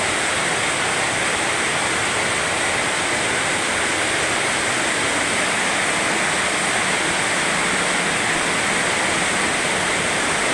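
Heavy night rain in Dasma, Cavite pours in a loud, dense, unbroken hiss that stays level and constant throughout, with no voices or distinct drops.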